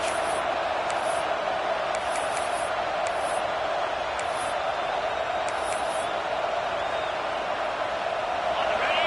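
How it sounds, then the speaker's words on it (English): A steady roar of an American football video game stadium crowd swells beneath commentary, with sharp high whistles or calls popping out repeatedly above the constant din. "And the crowd coming to life here, trying to help this defense down in the red zone."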